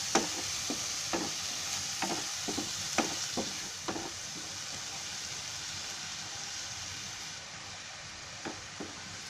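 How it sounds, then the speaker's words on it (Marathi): Onion and coconut paste frying in a pan over high heat, a steady broad sizzle with scattered spatula scrapes and stirring knocks in the first few seconds, then continuous even frying with no voices. "याने कांदा आणि खोबरा आहे ना चांगला म्हणजे गुलाबी रंगावर येईपर्यंत ते परतायचं आहे"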